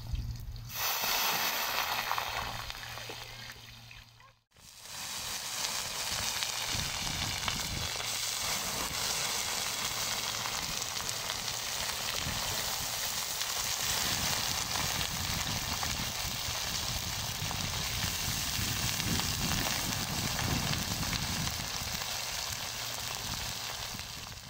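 Continuous sizzling and crackling of potatoes frying in a hot pan over an outdoor campfire, a steady hiss after a brief pause early on.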